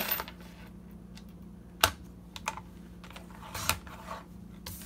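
A Fiskars paper trimmer slicing paper, heard as a few sharp clicks and snaps of the blade and carriage against a quiet background with a low steady hum, no talking.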